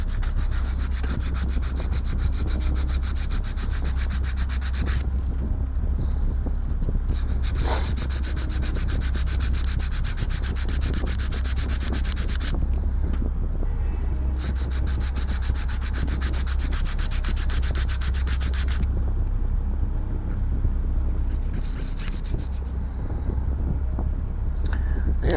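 A wooden part from an OCCRE Flying Dutchman 1:50 scale model ship kit is sanded by hand with steady, close, continuous rasping strokes, broken by a few brief pauses.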